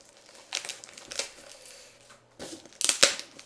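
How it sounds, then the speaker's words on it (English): Scissors cut and tear through packing tape on a cardboard box, bursts of crinkling and snipping close by, separated by short pauses. "Tape's stronger than the man, so we'll go with scissors."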